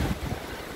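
Sea waves wash in at a wild beach in Haifa, a broad steady surf roar mixed with wind buffeting the microphone, heaviest at the start of the short stretch.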